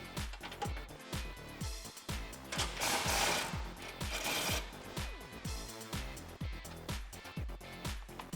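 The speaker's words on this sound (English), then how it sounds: "we can come in here with the 21mm socket on the impact to loosen up those nuts" An impact wrench with a 21mm socket loosens bumper nuts on the frame of a 2009-2014 Ford F-150 during a bumper install, giving a loud, rapid, rhythmic mechanical hammering that continues close-up throughout.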